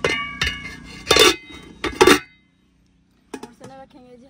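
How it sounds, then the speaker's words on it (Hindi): Black chickpeas tumble into a metal pressure cooker in a home kitchen with several clattering, clinking bursts of metal, followed by a pause and a softer final rattle. "चने रखेंगे जी हम कुकर में ताकि जल्दी हो जाए।"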